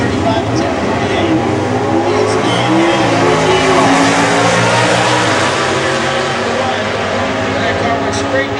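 Drag racing cars at the staging beams with Kip Martin and Bob Mazzolini, a loud sustained engine roar throughout that rises as the cars leave the line, with crowd and track noise mixed in.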